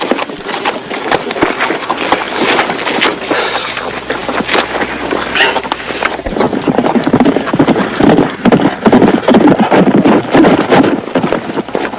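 Horses' hooves clip-clop loudly and continuously on hard ground in a Western setting, a rapid uneven clatter of several animals with a whinny mixed in, no voices.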